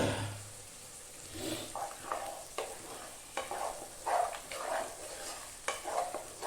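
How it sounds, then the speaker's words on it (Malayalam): Onions being stirred as they fry in a pan with salt for a soya roast, a spoon scraping in short irregular strokes over a soft, steady sizzle, close and moderately loud. "നന്നായി ഇളക്കി ഒരു ഗോൾഡൻ ബ്രൗൺ കളറിലേക്ക് ഉള്ളി വരണം."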